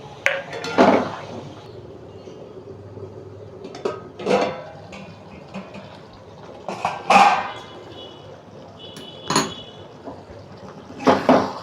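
Dishes and a bowl being rinsed and handled in a kitchen while making paneer butter masala, with scattered clinks and knocks of crockery and bursts of running water spaced out over a quiet background.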